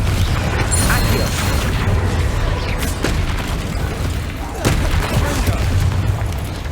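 Confringo and Accio spells cast in Hogwarts Legacy, bursting blasts and whooshing magic impacts over dense, loud combat noise, with a voice speaking throughout.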